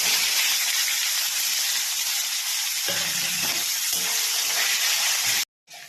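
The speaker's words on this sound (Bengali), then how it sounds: "এবার কুচানো পেঁয়াজ আর রসুনটাকে ভেজে নেব।" Chopped onion and garlic frying in hot oil with dry red chilli, bay leaf and whole garam masala for a spicy red chicken curry, giving a loud continuous sizzle with occasional stirring, then stopping abruptly near the end.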